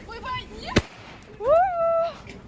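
One sharp firework bang cracks out, then a loud drawn-out voiced cry rises and holds, with faint chatter in the background.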